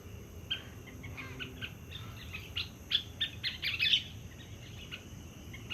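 Loud, repeated bird calls ring out in bursts over a steady outdoor hum, growing busier and sharper toward the middle before fading back.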